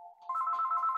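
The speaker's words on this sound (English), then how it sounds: "My phone's just gone there." A mobile phone rings with a short bright electronic tone, close and clear, against an otherwise quiet background.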